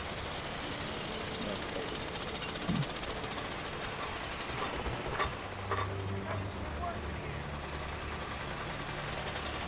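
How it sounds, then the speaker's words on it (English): A jackhammer in the video game A Way Out pounds continuously in a loud steady rattle throughout, with brief voices talking over it. "He turned up the jackhammer for me."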